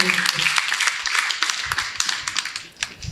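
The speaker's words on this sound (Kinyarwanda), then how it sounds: "Bakomera amashyi." Guests at a Rwandan wedding clap in a crisp, uneven patter of hands, fairly close, with voices mixed in beneath the clapping.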